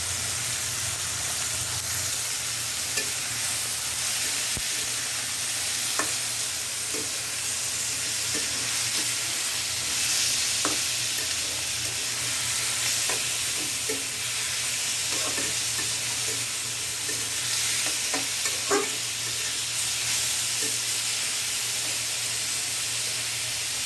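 Sliced bitter gourd and green chilies fry in oil, a continuous close sizzle with scattered stirring clicks and scrapes of a spatula throughout.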